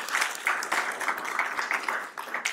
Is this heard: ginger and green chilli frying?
no